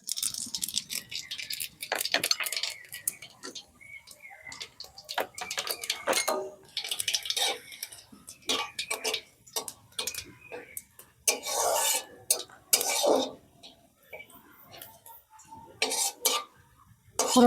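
Whole cumin, fennel and coriander seeds sizzle in hot oil in a pan while a spoon scrapes and stirs in irregular bursts, close up, with quiet gaps between strokes.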